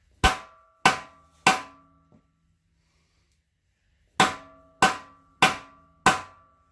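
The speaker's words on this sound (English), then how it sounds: "Might need more hammer." Sharp metallic hammer strikes driving a part into an Allis Chalmers B engine, three evenly spaced blows, a pause, then four more, each ringing briefly and decaying in a quiet shop.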